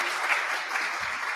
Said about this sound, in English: Yes, we got a special applause for that.